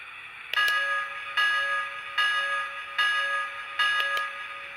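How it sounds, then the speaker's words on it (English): The bell of a Lionel Hogwarts Express LionChief toy locomotive dings five times at an even pace, each a clear metallic strike that rings out briefly. "And here's the bell."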